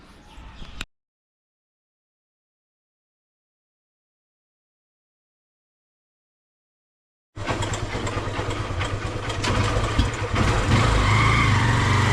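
A motorcycle engine cuts in abruptly after several seconds of silence and runs at a steady, loud, close idle, with a brief burst of noise before the gap.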